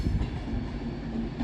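An Avanti West Coast class 390 train, unit 390-132, rounds the curve on the far side of Crewe station, a steady low rumble of wheels and carriages rolling past at a distance.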